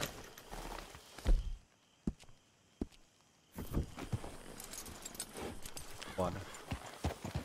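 Horse hooves clip-clopping in Red Dead Redemption 2, with scattered hoof thuds and then a steadier run of steps, heard under talking and game ambience.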